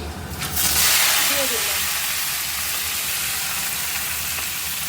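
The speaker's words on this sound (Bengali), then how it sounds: "এদিকে কচুর তরকারির জন্য আলুটা ভাজা হয়ে গেছে" Potatoes fry for a taro curry in hot oil with panch phoron spices, giving a loud, steady sizzle and hiss that swells at the start and then holds evenly, close up, with no talk over it.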